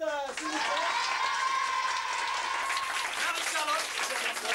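Schoolchildren on a snow-class trip applaud two new presenters, a lively burst of clapping mixed with excited young voices and a sustained cry, close and fairly loud throughout.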